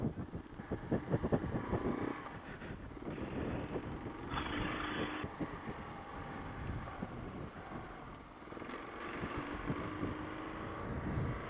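Adventure motorcycles ride a gravel loop, their engines a fairly quiet, uneven drone with wind buffeting and occasional rougher bursts as the bikes roll along.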